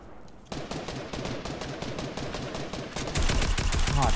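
Tactical SMG fire in a video game: a sustained, rapid stream of sharp automatic shots after a brief quiet start, turning louder and denser near the end, with no talking.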